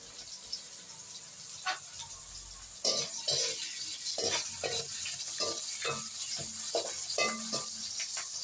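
Onions sauté with a little salt in a pan, first as a faint hiss, then louder with repeated clattering stir strokes and scraping against the metal.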